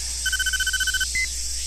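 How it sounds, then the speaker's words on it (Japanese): A telephone rings in the anime game Neon Genesis Evangelion: Girlfriend of Steel, a rapid electronic trill burst followed by a short second tone, loud and clear over a faint steady hum. "あら、電話。"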